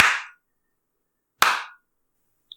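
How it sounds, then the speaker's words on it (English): Two sharp, loud claps ring out about a second and a half apart, each with a short echoing tail, then a faint click. "Everybody, clap those hands!"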